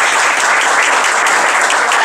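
Loud, dense applause from an audience at a staff appreciation ceremony, a steady roar of many hands clapping close and continuous without pause.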